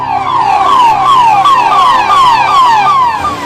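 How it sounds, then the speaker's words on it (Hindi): Emergency vehicle siren wailing loud and close, a rapid repeating falling sweep cycling about a dozen times without a break, with no voices. "गाड़ियां सायरन बजाते हुए पहुंच जाती हैं"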